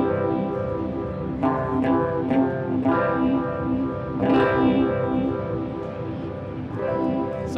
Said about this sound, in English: you can kind of hear it get a little bit more throaty, a little bit more deep, a little bit deeper reaching, for a more extreme phase effect